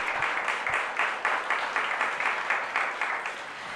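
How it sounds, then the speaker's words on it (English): An audience at a mayoral pilot-program launch event applauds with steady, rhythmic clapping, fairly close and sustained from start to finish. "let's give them a big round of applause"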